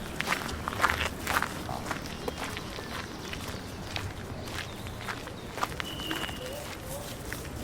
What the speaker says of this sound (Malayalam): അയാളുടെ സ്റ്റെപ്പിൻ്റെ ശബ്ദം എനിക്ക് കേൾക്കാം.